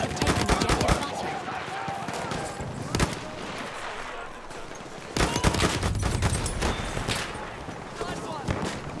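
Battlefield 1 multiplayer gunfire: rapid bursts and sustained automatic fire throughout, loud and close, with heavy bursts near the start and again past the midpoint, under occasional player talk.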